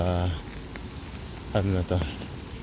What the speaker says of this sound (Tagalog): Malamig ang panahon ngayon, tapos sinabayan pa ng ulan.